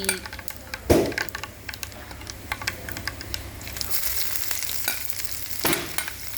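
Oil sizzles and crackles steadily in a pan as ginger fries after mustard and fenugreek seeds, with sharp clicks and a few stirring knocks close by.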